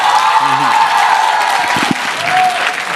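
Audience applause rises at a televised public debate on education, a steady broad wash of clapping from a nearby crowd, with a brief voice cutting through near the middle.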